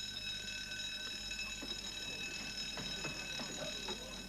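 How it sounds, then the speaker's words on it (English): A ship's alarm bell rings on board as a continuous steady metallic ringing, faint and distant with no talk. "that is the alarm bell, which you all heard"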